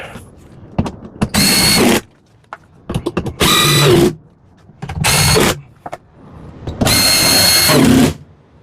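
A power drill runs in four bursts of one to two seconds each, tightening down the mounting bolts of an RV roof air conditioner. Quieter clicks and handling sounds come between the bursts, and no one speaks.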